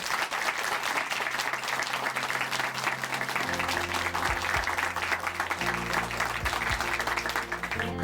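A church congregation at Chuncheon Hanmaeum Church applauds steadily throughout after a testimony, with a sustained music tone playing beneath the clapping.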